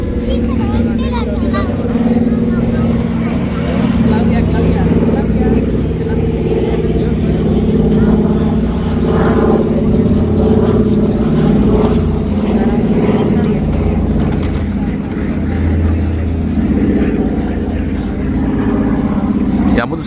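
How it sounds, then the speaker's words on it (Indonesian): An old propeller airplane flies overhead outdoors at Zaanse Schans in the Netherlands, a loud continuous engine drone with a deep rumble, heard under people talking and background crowd chatter. "Ya ampun, pesawat tahun berapa itu?"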